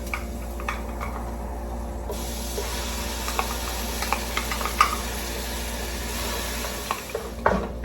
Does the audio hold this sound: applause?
no